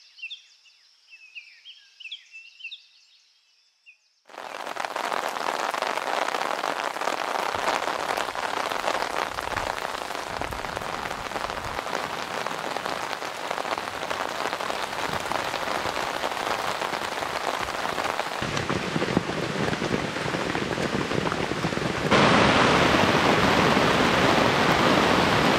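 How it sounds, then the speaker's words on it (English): Steady heavy rain drums on a Jack Wolfskin Gossamer 2 tent during a waterproof test night, a dense continuous patter that starts abruptly after a few seconds of quiet, faint sounds and grows slightly louder near the end. "Oh yes, it is raining."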